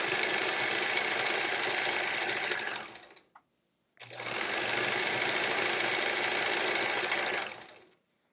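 Sewing machine stitching quilt fabric, two close, steady runs of fast mechanical whirring separated by a brief pause, each winding down at the end.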